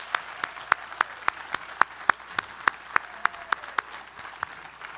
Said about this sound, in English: let's have a round of applause for our HOA inductees